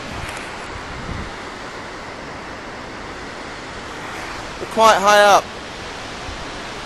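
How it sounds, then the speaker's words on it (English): An Icelandic waterfall roars as a steady, distant wash of broadband noise high above a fjord, mixed with wind, while someone speaks briefly near the end. "Now getting very close to my favourite waterfall in Iceland."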